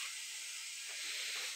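Oil heats in a pan and gives off a steady high hiss that stays even and continuous, quiet and close with no other sounds.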